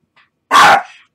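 A dog gives a single loud, abrupt bark, close by, with a faint brief sound just before it and no talking.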